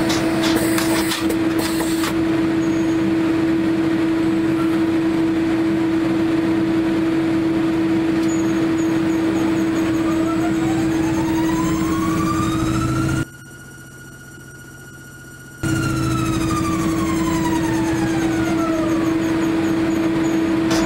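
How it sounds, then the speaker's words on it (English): A Konita T-800 CtP platesetter runs with a steady, loud mechanical hum and a tone that sweeps up and back down, briefly dropping to near silence partway through before the hum resumes. "So, let's see this machine in action."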